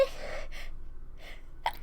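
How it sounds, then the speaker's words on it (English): A single close sneeze bursts out near the end, preceded by a few breathy, gasping inhalations separated by quiet pauses. "Am I gonna sneeze?"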